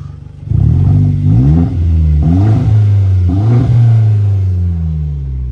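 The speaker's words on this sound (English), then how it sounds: "Give y'all a little rev." A 2011 Hyundai Genesis 2.0T engine idles, then is revved three times in quick succession, its pitch climbing and falling each time, loud and close, before settling back to a steady idle.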